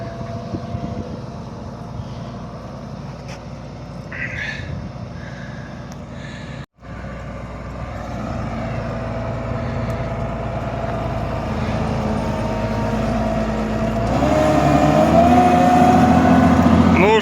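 A Claas combine harvester pulls away at the start of the harvest with a steady, loud engine drone that swells as it gets going, a brief cut near the middle and a rising whine toward the end.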